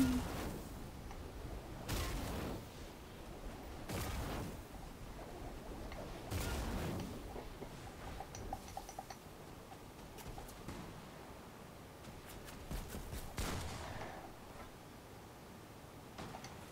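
Gunfire in the video game Fortnite, heard as a handful of faint, widely spaced shot bursts over a low, muted game ambience.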